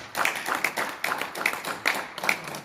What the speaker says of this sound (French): Est-ce qu'on peut l'applaudir très fort?